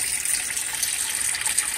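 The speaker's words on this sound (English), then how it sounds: "I'm going to fill this up with really hot water and put a cup of bleach in this side" Hot water gushes steadily from a tap into a sink for bleach cleaning, a continuous close, fairly loud hiss and splash with no talking.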